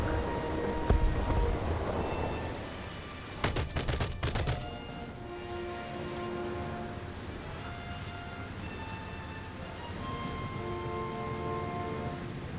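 A tight cluster of rapid, loud gunshots cracks out in a naval battle in War Thunder, a dense burst lasting about a second over a steady background rumble of sea and engines, with no talking.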